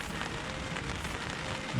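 Steady rain hisses and patters on a surface, a continuous soft wash of noise with no voices.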